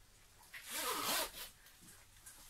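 A clothing zipper zipped up close in a single smooth pull lasting about half a second, with quiet room tone before and after and no one speaking.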